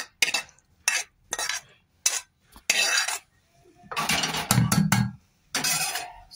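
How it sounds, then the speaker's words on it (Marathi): A spoon mixes spiced vegetable taco filling in a pan, with a run of bursts of scraping and clinking that stop and start, close and fairly loud. "सगळं असं मिक्स करून घेऊ।"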